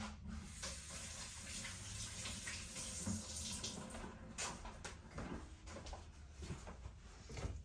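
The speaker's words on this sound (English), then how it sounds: "Wash my hands real quick." Tap water runs steadily into a kitchen sink during hand washing while cooking Portuguese-style cod, a continuous close splashing rush with small knocks and clatter from the sink and cupboard.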